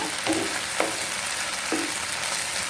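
Cooked onions stirred in a frying pan, a continuous soft sizzle with a few distinct scraping strokes of the spoon against the pan, close and without talk.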